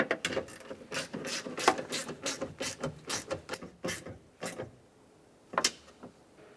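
A hand ratchet snugs down nuts on the studs of an exterior door handle on a 2004-2009 Dodge Durango, giving a quick, evenly spaced series of close clicking strokes followed by a pause and two final clicks.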